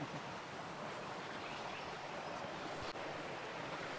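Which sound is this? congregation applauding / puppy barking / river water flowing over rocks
river water flowing over rocks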